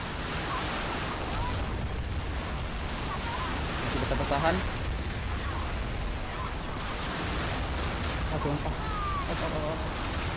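Dense, continuous rapid anti-aircraft autocannon fire from a warship in the video game Modern Warships roars throughout, with brief bursts of heavier blasts layered on top and no pauses.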